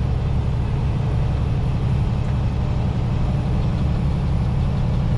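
A truck with a DD15 engine, loaded close to maximum gross weight, labors up a hill, its steady low engine drone heard from inside the cab with no talking.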